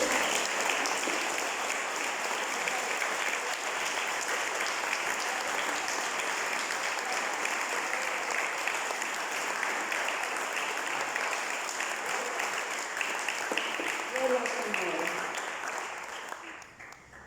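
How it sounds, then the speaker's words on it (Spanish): A church congregation breaks into sustained applause during a Spanish-language sermon, a dense, steady wash of many hands clapping that holds for about sixteen seconds before fading at the end. "Le podemos dar un aplauso porque nos compró la cruz."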